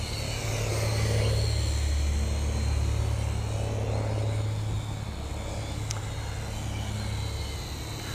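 A JJRC H51 Rocket 360 drone hovers and yaws outdoors with a continuous buzzing whir of small rotors, steady and fairly close, with a faint brief click partway through.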